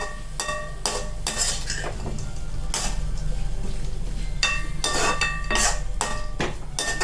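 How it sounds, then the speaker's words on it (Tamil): Pumpkin is stirred in a metal pot, a series of sharp, close spoon scrapes and clinks in irregular strokes over a low steady hum, with no voices. "ஒரே ஒரு கிண்டி கிண்டிட்டு ஆஃப் பண்ண வேண்டியதான்"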